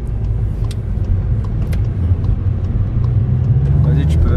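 A 2019 Seat Leon Cupra accelerates hard from inside the cabin, its engine a loud steady rumble that builds near the end, with occasional talk from the occupants.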